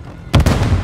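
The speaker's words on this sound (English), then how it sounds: "Stun grenade out." Stun grenade detonating in Call of Duty Modern Warfare II, a sudden loud bang with a dense burst of noise that rings on after an abrupt onset.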